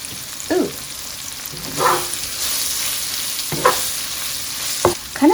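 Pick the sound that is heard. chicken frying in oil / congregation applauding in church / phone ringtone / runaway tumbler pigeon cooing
chicken frying in oil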